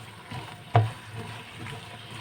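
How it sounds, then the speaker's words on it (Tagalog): French beans and pork stir-frying in a pan, a low steady sizzle with a single sharp clink of a utensil against the pan partway through and softer scraping after it. "Ayan, haluin muna ng mabuti. Haluin na ng haluin."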